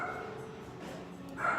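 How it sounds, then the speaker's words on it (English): Pet dogs bark at tree trimmers outside, a few yapping barks and whimpers heard indoors in a home kitchen, fairly close, with faint background noise. "they're barking at the tree trimmers,"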